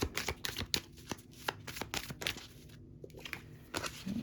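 Tarot cards being shuffled by hand, a quick run of crisp riffling snaps and soft paper clicks, close and fairly quiet, with a brief pause partway through and no talk.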